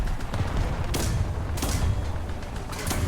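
Gunfire strikes a Saint-Chamond tank in a World War I combat game, with sharp broadband impacts at roughly one, one-and-a-half and near three seconds over a constant heavy engine rumble and battle noise.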